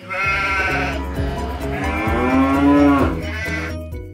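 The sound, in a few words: cows and sheep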